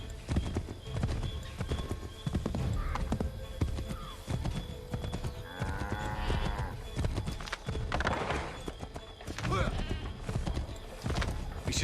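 Horses galloping in Assassin's Creed III, rapid hoofbeat clip-clop running throughout with a brief neigh, heard under game character dialogue and background score.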